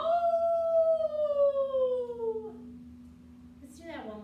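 A person imitates a wolf howl in a long gliding voice that slowly falls in pitch, loud and close. A short second vocal call follows near the end over a steady background hum.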